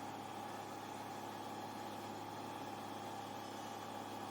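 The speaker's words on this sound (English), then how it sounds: "all the sounds of the aircraft are changing as we slow down" A light aircraft engine drones steadily in the cabin as the plane slows toward a stall before a spin, a constant even hum at moderate level with no talking.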